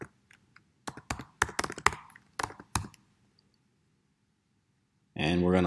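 A password tapped out on a computer keyboard, with a quick burst of distinct, close key clicks over about two seconds, then near silence before a voice starts speaking.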